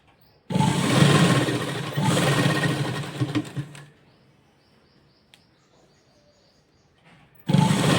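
An electric sewing machine stitches a frill onto a frock in two loud, close runs of rapid stitching separated by a quiet pause with small handling clicks.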